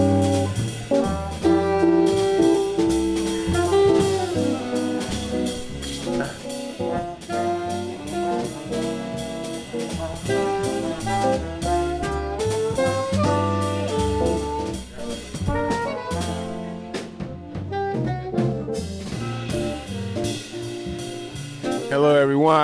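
A live jazz quintet jams loudly and continuously at a fundraising art show in a hotel courtyard room, full band texture with drums and melodic instruments throughout, no talk over it.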